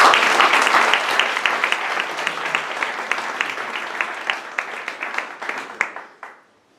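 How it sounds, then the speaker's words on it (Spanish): Audience clapping for two young musicians at a stage performance, a dense round of applause that starts loud, gradually thins and fades, then stops abruptly near the end. "Un aplauso para ellos."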